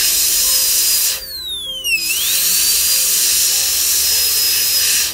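High-speed dental drill cutting a tooth during veneer preparation, a loud steady whine that drops in pitch as it loads against the tooth, cuts out briefly, then returns and holds its high tone.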